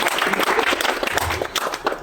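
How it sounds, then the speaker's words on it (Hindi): Applause from an audience at a meeting where attendance bonuses are being announced, a steady patter of hand clapping throughout, moderately loud, with a voice talking over it. "ताली तो बजाओ यार।"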